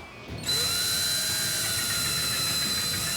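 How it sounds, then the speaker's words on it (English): A power drill bores holes through burl wood during a car restoration; after a brief quieter start the motor whines up to a loud, steady high-pitched drone held to the end. "drilling these holes through the burl, and it doesn't seem like it's all that tough"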